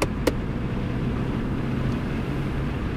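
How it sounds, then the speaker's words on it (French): A car accelerates during a driving lesson, its engine a steady, close droning hum from inside the cabin, loud and continuous without talk. "Allez, on accélère."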